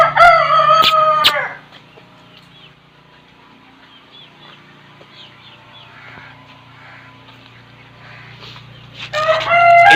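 A rooster that is blind in one eye crows loudly and close by twice, once at the start and again at the end, with quieter clucking in between.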